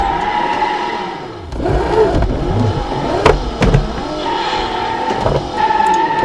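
A Mercedes W124 Blue Edition in BeamNG.drive drives and revs steadily at close range, with engine pitch rising and falling and a few sharp knocks and skids, no talk over it.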